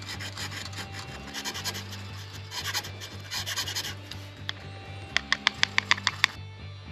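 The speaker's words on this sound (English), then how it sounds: "we're going to shave this nut and collect all of its residue" A plastic guitar nut from a Peavey Signature Series gold top guitar is shaved in repeated scraping strokes over a low hum, ending in a run of sharp, evenly spaced ticks.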